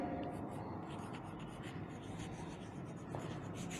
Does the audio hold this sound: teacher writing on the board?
yes